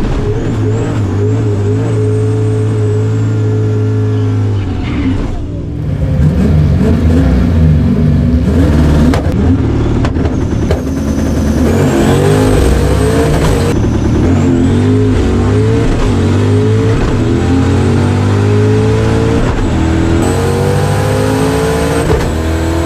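A Ford 363 stroker drag car launching and accelerating hard down the strip, its loud engine roaring through rapid gear changes with brief dips between shifts, close and dominant throughout.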